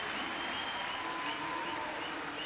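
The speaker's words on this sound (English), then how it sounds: "The Brazilian crowd getting very excited ahead of heat number 1." Brazilian crowd at a Paralympic swimming heat in Rio, a steady distant roar of cheering and applause filling an indoor pool hall, even and unbroken.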